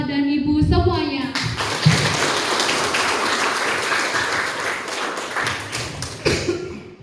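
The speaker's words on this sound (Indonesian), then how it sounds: "Kita berikan aplaus kepada Bapak dan Ibu semuanya." An audience in a hall claps loudly and continuously at a school mock election debate for regent and vice-regent candidates. A voice speaks briefly before the applause, which then fades as talk returns.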